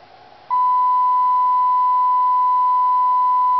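After a brief quiet moment, a pure 1 kilohertz test tone for a Gemmy light show timer switches on abruptly and holds at a constant loud level, unwavering and alone.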